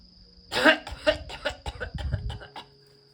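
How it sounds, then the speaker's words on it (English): A short fit of several close coughs in quick succession, moderately loud, with no speech around them. "What are you coughing for,"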